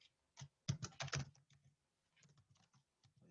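Code being typed on a computer keyboard: a quick burst of close, crisp key clicks, then lighter, scattered taps after a brief pause.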